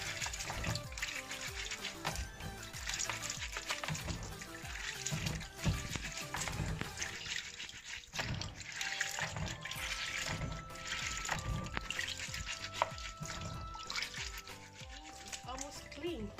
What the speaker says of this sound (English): so now I have to start washing it.